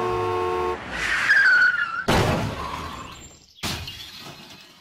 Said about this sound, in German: Auf einer Kreuzung passiert ein Unfall